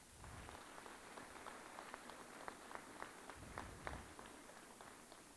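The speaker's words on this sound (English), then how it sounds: "Let's give these young men a round of applause." An audience at a school awards ceremony claps for the young award recipients, a soft, distant patter of many hands with scattered sharper claps, steady throughout and faint in the room.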